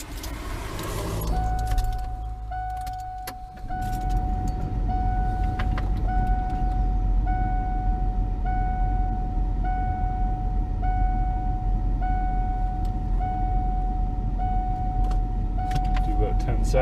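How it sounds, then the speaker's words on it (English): Cold start of a 1987 Ford F250 engine on a freezing morning near zero degrees Celsius: steady chime tones sound first, then the engine catches after a few seconds and settles into a loud, continuous close idle while the chimes keep going. "So let's do a cold start here."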